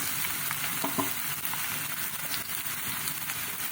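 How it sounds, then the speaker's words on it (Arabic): Onion fries in hot oil in a pan, giving off a steady, close sizzle with small crackles and a few soft stirring clicks, with no talking. "نخليو هاد البصله كتشحر، كتحمر لينا البصله"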